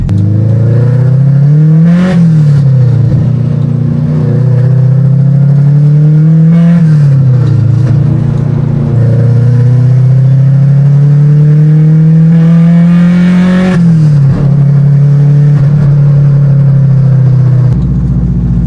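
A project car's engine revs hard on a race track, climbing through the gears with repeated rises and brief dips at each shift, loud and steady throughout with no talking.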